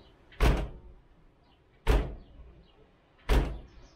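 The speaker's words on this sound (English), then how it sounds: "That's not going to help the door opening, closing, rattling." Three heavy car door slams on a 1973 Triumph Stag, evenly spaced about a second and a half apart, each a solid thunk with a brief rattle and echo.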